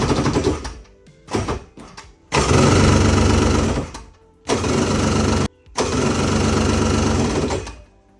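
A 1999 Yamaha jet boat engine revs in loud, sustained bursts, sputtering in short pulses at first and then roaring steadily in three long runs separated by brief cuts.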